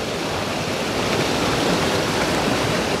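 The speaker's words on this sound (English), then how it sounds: "right above the secret waterfall" Rushing water from a hidden waterfall in nature, a loud, steady broadband roar heard close up without voices.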